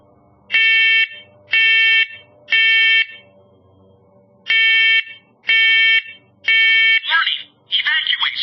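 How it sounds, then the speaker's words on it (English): A First Alert Onelink smoke and carbon monoxide detector in test mode sounds three loud, evenly spaced piercing beeps, pauses, then three more, before a synthesized voice starts speaking. "I'm going to run the test again with the CO detector just so that we can make sure that you hear exactly what the CO detector says"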